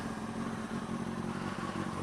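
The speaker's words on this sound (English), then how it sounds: "If you haven't ridden the bike already, turn it on. Let it run till it hits 200 degrees." A 2005–2006 Kawasaki ZX6R 636 sport bike engine idles steadily while warming up with the lower fairings off, a close, constant mechanical drone with a faint clatter and no voices.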